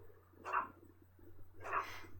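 A dog in Back to the Future: The Game gives two short, moderately quiet barks about a second apart over a low steady hum.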